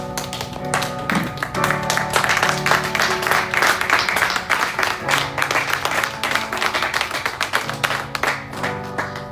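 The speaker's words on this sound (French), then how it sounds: "On acclame la parole de Dieu. On acclame." Church congregation applauding, dense sustained clapping from many hands filling the room without pause, with a faint tone of an instrument or voices held underneath.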